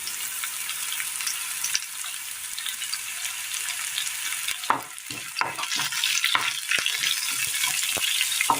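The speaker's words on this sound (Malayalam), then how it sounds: "അറ്റം പിളർന്ന 2 പച്ചമുളക് ഇട്ട് കൊടുക്കാം." Slit-tipped green chillies go into a simmering curry with a steady sizzle and the scrape of stirring, close and continuous, with sharper clatters of the spoon in the second half.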